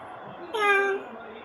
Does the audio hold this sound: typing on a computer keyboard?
no